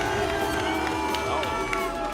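Arena crowd at the Rocket League World Championship 2025 playoffs roaring and cheering loudly and continuously, a dense wall of shouts and whoops with no pauses.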